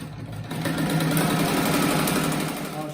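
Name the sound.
sewing machine stitching fabric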